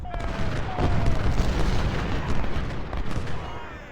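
Light artillery guns firing in the Civil War strategy game Ultimate General: Civil War, a dense run of booms and rumbling blasts over continuous battle noise, with a voice talking over it.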